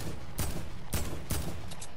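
Three sharp gunshots ring out in a video game firefight, loud cracks spaced about half a second apart with a faint echoing tail between them.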